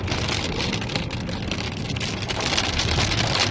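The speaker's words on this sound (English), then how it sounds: "It's now. hailing hard." Hail pounds down hard during a tornado storm, a dense, loud, continuous roar of pellets striking surfaces with no talk.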